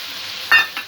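Chopped capsicum is stirred into potato and sweet corn frying in a pan: a short, close burst of sizzling with a quick scrape of the spoon.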